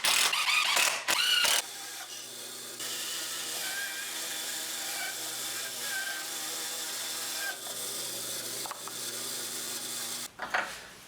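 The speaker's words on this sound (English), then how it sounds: "I'm just putting in these two guides, and I'll just use screws instead of glue" A power driver runs screws into wooden guides on a homemade table saw jig, with a steady mechanical whirr for several seconds between a few short clattering bursts at the start and end, close and moderately loud.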